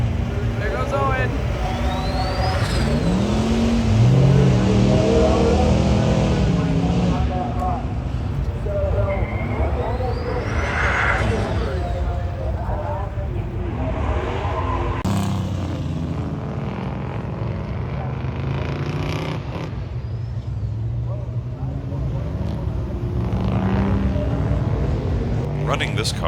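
A car on a road trip rumbles past nearby, its engine swelling and fading, amid steady traffic and wind noise as people talk over it.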